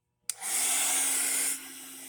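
A heat tool blows drying air over a paper file folder journal craft project, starting abruptly with a loud steady whoosh that eases to a lower level partway through.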